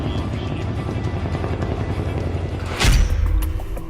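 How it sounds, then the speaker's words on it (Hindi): A Chinook military helicopter flies with a steady, throbbing rotor chop, fairly loud and near, with a sharp thump late in the clip. "इस सैन्य हेलीकॉप्टर की क्षमताएं बहुत ज्यादा हैं।"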